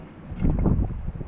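Cold wind outdoors beside a caravan buffets the microphone, making a steady low, rumbling roar with gusty swells and no speech.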